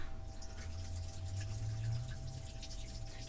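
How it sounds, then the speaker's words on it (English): Tap water runs steadily for hands being rinsed in a home kitchen, a continuous close splashing flow with a faint steady hum underneath and no talking. "Let me just go and rinse my hands again."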